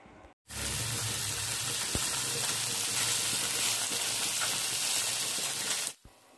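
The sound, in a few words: chicken tandoori pieces sizzling in pan after flipping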